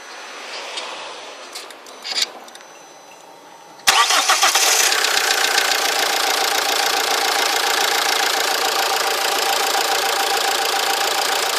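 A Fiat Multipla 1.9 JTD diesel cranks and fires after a few quiet clicks, then settles into a loud, steady idle with a clattering diesel knock, close by.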